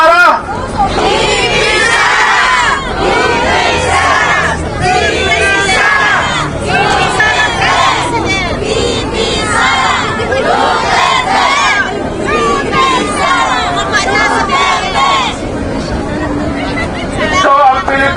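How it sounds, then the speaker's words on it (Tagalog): A large crowd at a political rally in Tokyo shouts and chants "VP Sara" in rhythmic waves, loud and continuous, with cheering voices overlapping throughout. "Pwede ko bang marinig ang sigaw na BP Sara?"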